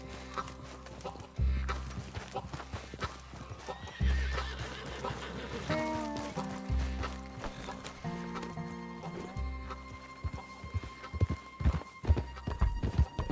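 A horse in the Red Dead Redemption 2 video game neighs and whinnies several times over rhythmic clip-clop hooves, with loud repeated low thumps and clear game sound, no speech.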